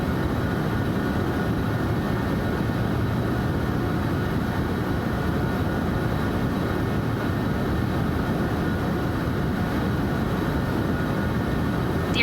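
Steady, loud cabin drone of a Citation business jet climbing toward flight level 450 in Microsoft Flight Simulator, a broad low rumble with constant hiss and no voices over it.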